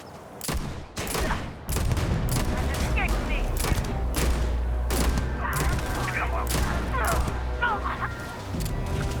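Player gunfire in the game Starfield comes as loud, close bursts of rapid shots over a deep rumbling hum, with clattering mechanical sounds mixed in.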